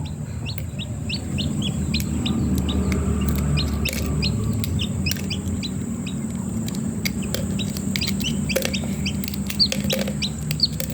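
Chickens clucking and a newly hatching chick peeping continuously over a low steady background hum, with scattered sharp chirps throughout.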